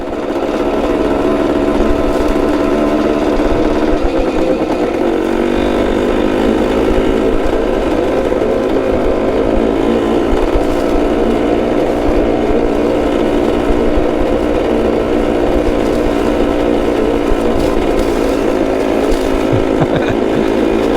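A 1972 Yamaha CT2 motorcycle ridden across farm fields, its small engine droning loud and steady up close the whole time, with slight shifts in pitch as the throttle changes.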